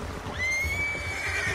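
A horse rears and neighs in the Red Dead Redemption 2 video game, one long high whinny rising and holding steady over soft low hoof and background rumble, fairly close and clear.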